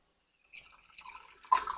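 Hot water poured over loose sheng pu-erh tea leaves for a quick rinse, a soft trickling pour that starts faint and ends in a brief, brighter splash, with no talking.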